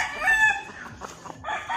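A rooster crowing at a backyard chicken farm in Compostela, Cebu, one loud close crow with a bit of clucking after, brief and clear.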